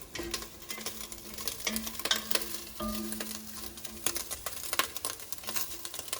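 Sausage fat renders and browns in a hot pot, a soft steady sizzle with scattered pops and crackles, close and fairly quiet, with no talking.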